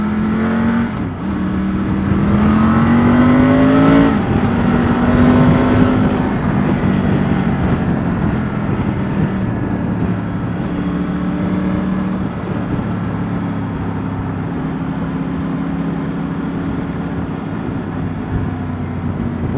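A Triumph motorcycle, either a 1200 Scrambler or a Tiger 900 Rally, accelerates hard on a road test ride. The engine note climbs loudly through the gears, then settles into a sustained drone, with heavy wind rush throughout.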